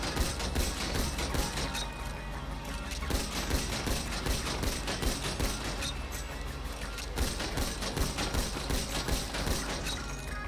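Gunfire in the video game GTA 5 Online, a dense, continuous stream of rapid shots and bursts running loud and unbroken for about ten seconds.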